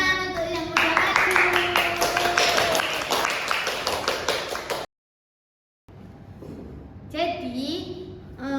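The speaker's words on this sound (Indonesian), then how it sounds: "kasih tepuk tangan untuk yang udah maju." A classroom of students applauds classmates who have just presented, with dense rapid clapping and children's voices mixed in. The applause cuts to silence, then quieter room noise and talk return.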